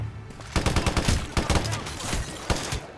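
Rapid automatic gunfire in the Hitman Absolution video game, loud close bursts of repeated shots with brief pauses between volleys, filling most of the stretch.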